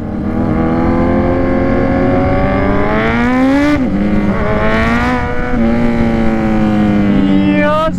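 A Kawasaki Z1000R motorcycle engine revs loud and close, its pitch climbing and dropping through repeated throttle surges with a steady drone underneath.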